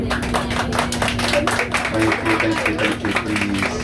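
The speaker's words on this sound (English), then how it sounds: "give him a rousing round applause for me" Passengers applaud the pilot after a submarine dive tour in the Caribbean: scattered clapping in an enclosed cabin with a steady mechanical hum and chatter underneath.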